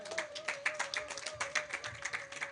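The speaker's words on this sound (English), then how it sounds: "Please clap for him again." A small audience applauds at a virtual garden and flower show, quick irregular claps that keep going steadily over a faint steady tone in the background.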